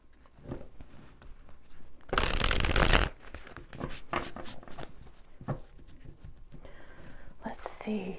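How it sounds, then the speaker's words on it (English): A deck of stained glass cards is shuffled close up in soft, papery riffles, with one dense burst of shuffling standing out among quieter flicks and handling noises. "while I am shuffling this deck"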